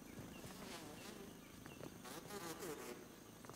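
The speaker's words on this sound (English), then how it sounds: "Oh, that was a bee." A bee from the video game Grounded buzzes as a continuous insect drone with wavering pitch, fairly steady and moderately close, over a soft ambient background without speech.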